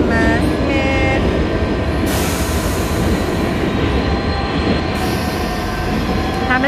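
A London Underground train at Hammersmith station roars loudly and steadily, with wheels squealing in high, shifting tones and a rumbling clatter throughout, heard up close on the platform with no talking.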